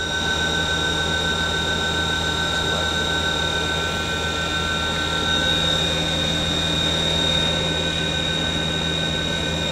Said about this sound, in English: Spindle's runs very nice, smooth.